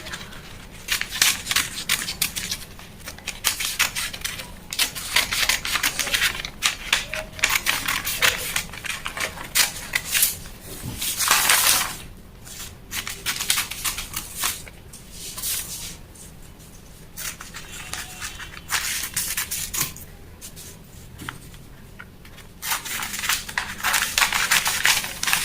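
Scissors trim fabric while an origami sleeve is cut out, giving a steady run of close, dry snipping and rustling that goes on continuously with no talk.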